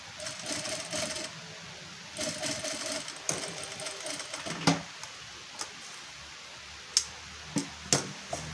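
A sewing machine stitches a simple blouse, running in bursts of steady whirring broken by pauses and a few sharp clicks and knocks, close and fairly loud.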